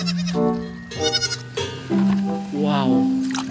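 A goat bleats several times in close succession, loud and wavering. A person talks excitedly over and between the calls.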